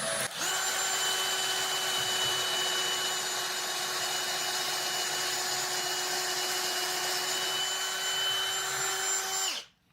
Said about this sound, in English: Let's get that drilled.